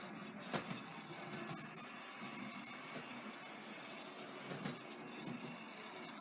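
A Hornby R3775 Network Rail 0-4-0 diesel shunter model runs around a layout with a steady, faint mechanical whir and rail rumble, broken by a few light clicks over track joints, with no talk.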